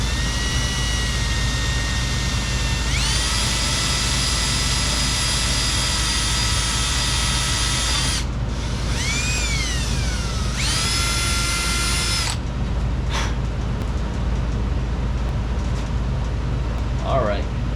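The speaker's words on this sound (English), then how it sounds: "I don't want to burn up this drill bit." A power drill whines loudly at high pitch, running in long steady bursts that stop and restart, biting into a Toyota 2JZ-GE engine's metal at close range.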